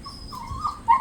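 A young guard dog whimpers close by, thin high whines that rise and fall, ending in a sharper yip.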